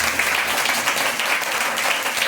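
A church congregation claps loudly and continuously, forming a dense, sustained wash of applause with no break.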